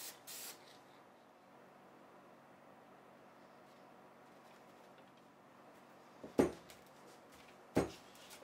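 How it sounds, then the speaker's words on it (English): Short hissing bursts of spray adhesive going onto cloth-backed abrasive for a sander: one at the start and two sharper sprays near the end, against a quiet background. "The abrasive is attached with spray adhesive."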